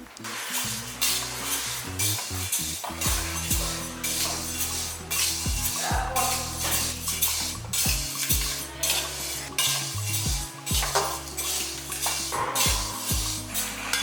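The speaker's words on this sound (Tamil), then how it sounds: "இதில் இந்த கடலைப்பருப்பையும் போட்டுக்கோங்க" Chana dal tipped into a pan and dry-roasted, a busy clatter of spoon against metal and rattling lentils with a faint sizzle underneath, stirred constantly and fairly close, with no talking.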